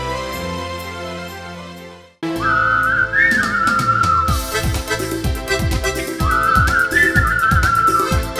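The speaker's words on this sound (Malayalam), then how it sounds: "whistle symphony" A whistle symphony stage performance blends whistling with flute and classical music. A soft instrumental opening gives way to a loud, clear whistled melody carried over rhythmic backing, with two long whistled phrases.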